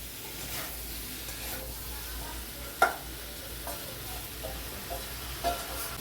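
Potatoes and paneer sizzle in a pan while being stirred, a steady frying hiss broken by a few sharp scrapes and clinks of the spoon.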